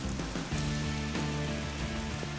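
Heavy rain pours down on a golf course during a tournament, flooding the greens, with a dense, steady hiss and patter that holds at a constant level throughout.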